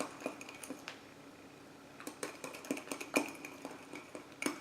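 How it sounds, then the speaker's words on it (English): A spoon stirs banana-chocolate-almond mug cake batter in a mug, with irregular clinks and scrapes against the mug's sides, close and fairly quiet, no talking. "While I'm still mixing it"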